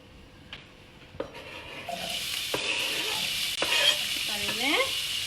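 Food hits hot oil in a frying pan with a few sharp clinks, then a loud continuous sizzle builds and holds, with light scraping of a utensil near the end.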